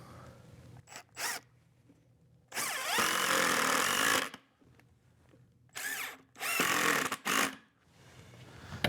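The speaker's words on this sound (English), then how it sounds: "Now I can just drive the screws in place." A power drill driving screws into the wooden side of a lumber cart, several loud whirring bursts of varying length, some short and some lasting over a second, separated by quiet gaps with light handling noise.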